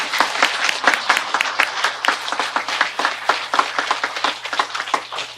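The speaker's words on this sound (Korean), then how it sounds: "우리 다 함께 그 은혜에 보답하는 마음으로 성가대에게 박수를 좀 보내드릴까요?" Audience clapping for a church choir after its performance, steady dense applause of many hands at close range that continues throughout.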